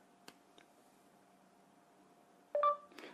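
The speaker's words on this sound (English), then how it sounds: "Every time I'm taking the phone next to my ear, you hear the beep, then I start to talk." A phone gives a brief electronic beep as it is raised to the ear, a sharp tone arriving late after near silence and a couple of soft ticks, followed by a small rustle.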